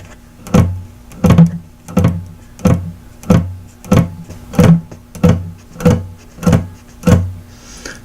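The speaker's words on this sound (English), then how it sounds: "Now let's practice going from the sixth string to the fourth string." Acoustic guitar picking exercise moving from the sixth string to the fourth, with about a dozen evenly spaced, nearly simultaneous two-string plucks sounding close and clear, alone.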